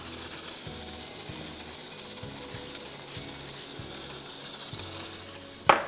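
A quarter cup of brown sugar sizzles softly in two tablespoons of melted butter in a pan. A faint steady hiss runs under low rhythmic scraping, and a sharp louder clatter comes right at the end.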